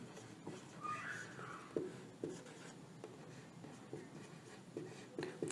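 Writing on a board during a maths lecture on sets and relations: faint, scattered scratchy strokes and taps in an irregular rhythm, with no talking over them.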